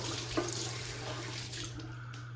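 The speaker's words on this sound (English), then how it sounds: "Okay, let's clean the face." Tap water runs steadily into a sink as a face is washed after a shave, with a constant close hiss and splash and no speech.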